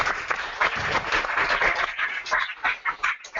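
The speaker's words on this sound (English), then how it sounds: "Can we all please give Lily a round of applause?" An audience at an evening animation demonstration claps briefly for Lily, a quick burst of uneven hand claps that thins out toward the end.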